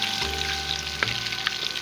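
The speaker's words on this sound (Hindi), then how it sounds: "ये लहसुन अदरक फ्राई हो गया" Garlic and ginger frying in a pan for an aloo chicken curry, a steady bright sizzle with a few soft stirring clicks, close and alone without talk.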